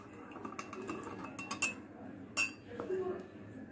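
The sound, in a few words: spoon clinking, adding sugar to strained orange tea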